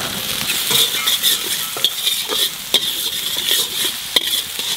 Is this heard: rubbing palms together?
no